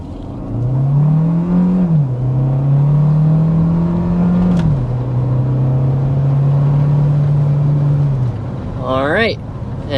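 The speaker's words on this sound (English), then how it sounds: "But first, we want to go ahead and start with a hard acceleration." 2025 Hyundai Tucson Limited hybrid under hard acceleration to 60 mph, a loud steady engine drone rising in pitch through gear shifts, heard from inside the cabin, with a brief voice near the end.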